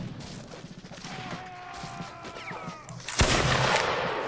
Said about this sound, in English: The cannons are wrecking this tower